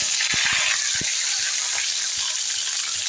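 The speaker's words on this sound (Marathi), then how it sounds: "याला छान आता आपण फ्राय करून घेऊ." Masala paste with garlic sizzles steadily in a pan for puri bhaji, a constant bright hiss broken by a few soft knocks and stirring taps.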